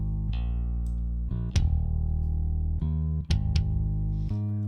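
Electric bass and kick drum playing together in a mix, sustained low bass notes with a few sharp kick hits landing over them, loud and steady with no voices.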